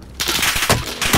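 Rapid automatic gunfire from a video game crackles in several dense bursts, loud and close, with a voice faintly mixed in.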